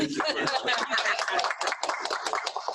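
At the close of a faculty panel event, scattered clapping mixes with chuckles and laughter from a small group as people talk over it.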